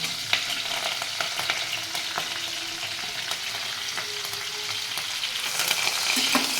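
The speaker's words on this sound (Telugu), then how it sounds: "ఇవి వేగుతూ ఉంటాయండి కొంచెం వేగాలండి ఆనియన్స్ పచ్చిమిర్చి కొంచెం వేగాలండి" Onions, green chillies and curry leaves fry in a pan with a steady, close crackling sizzle that grows slightly louder toward the end, with a few utensil taps and scrapes from stirring.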